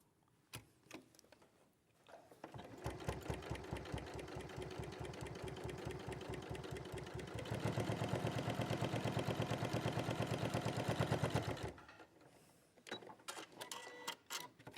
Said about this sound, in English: I'm just going to top stitch along that edge.